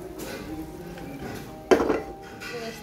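Metal utensil stirring khichuri in a pot with tomato and fried onion, making soft scraping sounds and one sharp clink near the middle, close up.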